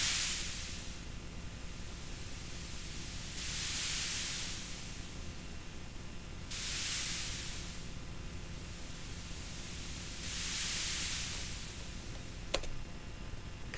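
Synthesized noise carrier routed through an effects send swells and fades in slow, even washes about every three and a half seconds, like gentle ocean waves on a beach, steady and alone with no voices.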